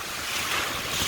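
Ocean waves wash steadily along a shore, a broad continuous roar mixed with wind buffeting the microphone, no one speaking.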